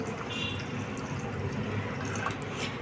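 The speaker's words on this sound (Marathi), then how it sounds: "याच्यामध्ये आता मी टाकणार आहे हे एक तांब्या पाणी" Water pours steadily into a pot, a continuous close gurgling flow without a break, no speech.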